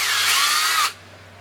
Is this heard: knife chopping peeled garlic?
no